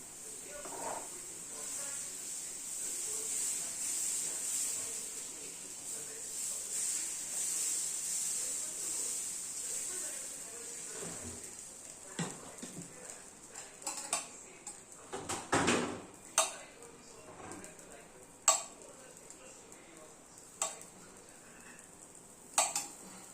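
Plain dosa batter ladled onto a hot pan and spread, a steady close sizzling hiss through the first half giving way to scattered metallic scrapes and clinks of the ladle against the pan.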